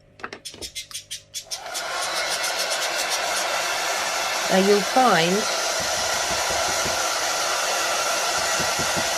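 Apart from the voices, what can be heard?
hair dryer drying sealer on slate coaster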